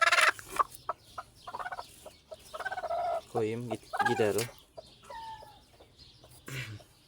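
A broody hen is handled in a coop with eggs, giving a few loud, drawn-out clucks and throaty calls close by while someone talks between them.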